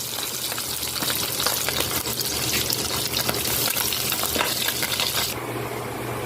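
Galunggong fish frying in a pan of hot oil, giving a steady, dense sizzle and crackle close up that holds for the whole stretch with no one talking.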